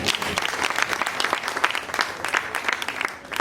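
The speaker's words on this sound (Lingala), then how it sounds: "Si nous pouvons applaudir pour elle." An audience claps for Sylvie Bongo in a short burst of moderately close applause, a dense patter of hand claps that holds steady and then thins slightly near the end.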